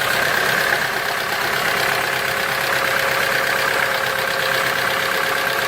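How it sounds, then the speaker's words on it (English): Car engine running low on oil, a steady droning idle with a fast, even knocking texture under the hood, loud and continuous throughout. "you'll start hearing a loud knocking noise from under the hood."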